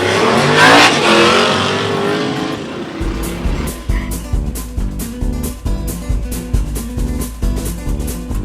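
Drag race cars, a 1968 Cutlass and a 1970 Mustang, rev loudly at a dragstrip reunion; a broad roaring blast gives way to a rapid series of sharp revving bursts and engine pulses, close and prominent throughout.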